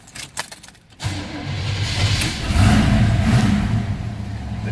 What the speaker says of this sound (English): We're going to go ahead and fire this up so you can hear it run also.